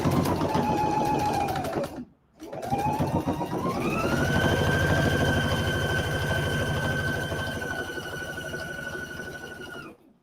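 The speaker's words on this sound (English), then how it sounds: "Let's go ahead and sew, friends." A sewing machine stitches a 5/8 inch seam in fast, steady bursts, with a short pause near the start before it picks up speed and runs evenly to a stop, up close with no talking.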